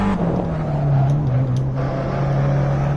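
A racing car engine in Assetto Corsa idles and drones steadily on the grid, a low sustained hum with slight pitch wobble and no talking.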